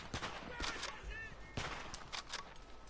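Sniper rifle shots crack out in the WW1 shooter Verdun, several sharp reports spread across a couple of seconds, moderately loud over a busy battlefield background with no talk.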